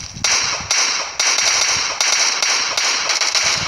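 Gunfire in PUBG Mobile: sharp loud single shots cracking at irregular intervals, about seven in under four seconds, each with a short decaying tail over a steady game background.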